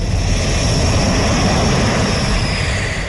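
Rafale fighter jets land at Ambala airbase, a loud, continuous broadband jet roar that stays steady and close throughout, with no voices.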